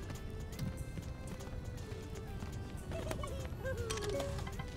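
Hooves of a Flamin' Cheepoof, a creature that is always on fire, clip-clop in a steady trotting rhythm inside a cave in Bugsnax, with a few higher game tones chiming in near the end.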